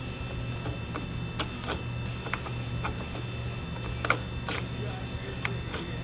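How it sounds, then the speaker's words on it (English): Metal parts tick and clink sparsely as the worm drive of a steering box is set in with two new bearings, close but faint over a low steady hum, with no talk. "We're going to set the worm drive in now with our two new bearings."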